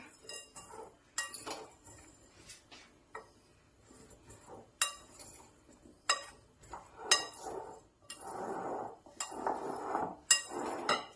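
Mango pickle ingredients, asafoetida powder and salt, being mixed in a bowl: quiet, irregular clinks and scrapes of a spoon against the dish, with soft stirring rustles between the sharper taps.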